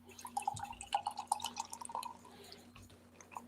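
Beer is poured from a can into a glass, making soft, close trickling and fizzing with small bubbly drips. It is quiet and without talk.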